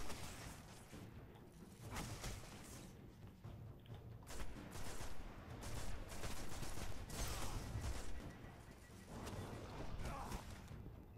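Dense, continuous gunfire and explosive bursts in the video game Destiny, with repeated sharp cracks over a constant rumbling din and occasional crashes.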